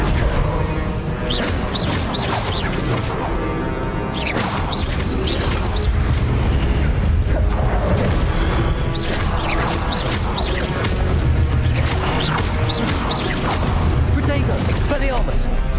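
Spell combat in Hogwarts Legacy with a Confringo blast among other spells, a dense run of crashing, whooshing magical impacts and bursts over steady game noise, with voices calling out spells throughout.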